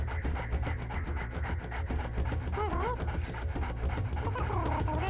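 A dog character in the video game Jet Force Gemini pants and barks amid busy game music and effects, steady and loud throughout, with no speech.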